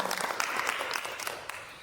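An audience claps loudly and briskly together in a short, dense burst of applause.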